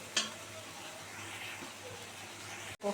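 Spices fry faintly in oil for a bhetki fish bone chorchori, a quiet steady sizzle broken by a metal clank at the start and another near the end.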